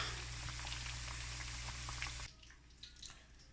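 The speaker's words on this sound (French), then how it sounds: "On laisse dégoûter l'huile." Hot oil draining off fried tasso goat meat gives a steady, close sizzling hiss with faint drips, then cuts off abruptly partway through and leaves a quieter, sparse tail.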